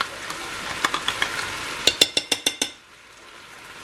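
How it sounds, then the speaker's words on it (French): A spoon stirs tomato sauce in a pot, a rhythmic series of sharp metallic scrapes and taps, faster and louder toward the end, over a low sizzle, then quiet. "Et vous mélangez. Et vous laissez mijoter quelques minutes."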